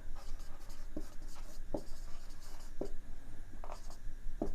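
Someone writes on a board during an English grammar lesson, with steady scratchy marker or chalk strokes and occasional taps, close and continuous with no speech.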